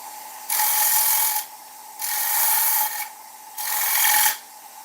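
A carbide woodturning tool cuts beads into a spinning timber rim in three loud, rasping scrapes of about a second each, separated by brief pauses, over a steady lathe hum.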